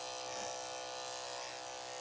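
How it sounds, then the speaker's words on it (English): Big electric dog grooming clippers run in a steady, even buzz while trimming a dog's foot, close and quiet with no talk. "Again, I'm roughing in with the big clippers."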